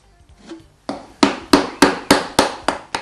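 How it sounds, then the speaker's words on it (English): A hand saw cuts the shoulders of a wooden housing and halving joint, starting with a few light strokes and then settling into a run of sharp, evenly spaced rasping strokes, close and distinct. "The saw is placed carefully in the guide and the shoulders cut."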